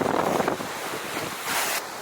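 Ocean waves washing around a sailboat under sail on a Pacific crossing, with steady rushing water and gusty wind noise, and a louder surge near the end.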